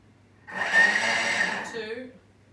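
A Thermomix kitchen machine chops on its turbo setting in one short burst of about a second, a loud whirring blade noise that starts abruptly, holds steady, then spins down with a falling whine.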